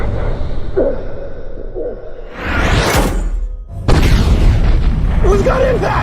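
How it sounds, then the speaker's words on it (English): Bombs exploding on impact: a rising whoosh swells into a loud boom, followed by a sustained heavy rumble, with brief voices heard before and after the blast. "We've got impact! Check direct hit!"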